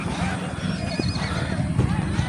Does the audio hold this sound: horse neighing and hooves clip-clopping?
yes